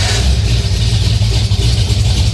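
A Ford Flathead V8 fitted with a Holley Sniper fuel injection kit fires on its first start and settles into a loud, deep, rumbling idle close by, with a slightly uneven beat and no voices.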